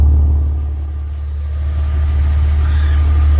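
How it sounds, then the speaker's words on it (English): A SAAB 9-3 car engine idles steadily with a deep, even rumble and low hum, close and continuous throughout. "We're idling."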